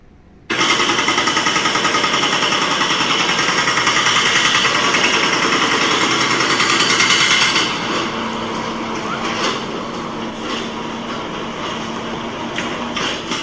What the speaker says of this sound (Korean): 자, 공사장 소리입니다.